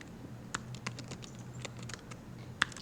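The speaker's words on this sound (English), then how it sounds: "My typing is needing adjustment here." Typing on a computer keyboard, a steady patter of soft clicks with a couple of louder key strikes, close and fairly quiet over room hum, with no talk.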